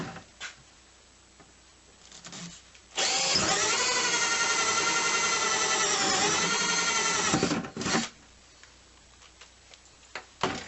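A power drill whirs steadily for about five seconds as it bores vent holes in a plastic bucket sleeve, loud and close, with quieter handling knocks before and after.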